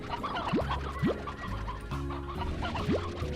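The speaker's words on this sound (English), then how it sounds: "Oh, there's a lot of chickens here." Clucking chickens in the video game Slime Rancher, a few short rising calls over a steady busy game background, moderately loud throughout.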